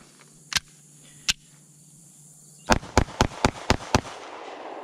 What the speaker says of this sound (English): Okay, we're going to do a mag dump.